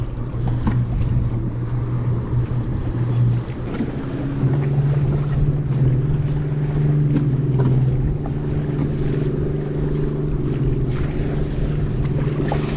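Wind buffets a small fishing boat on open water, a steady rushing roar over the microphone mixed with the low hum of the boat's motor, continuous and close with no talking.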